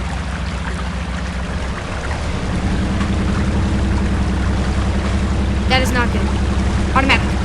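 Truck in Spintires MudRunner driving through a deep river, a steady rushing water and engine drone throughout with a few brief higher tones near the end, under a short spoken remark.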